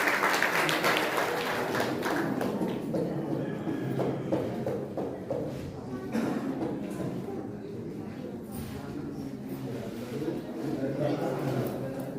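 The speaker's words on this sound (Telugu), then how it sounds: "చప్పట్లు కొట్టి దేవుని నామాన్ని మహిమపరుద్దాం" An audience claps together at a Christian worship gathering where Zion songbooks are being handed out. The applause is a dense, steady patter lasting throughout, with people talking over it.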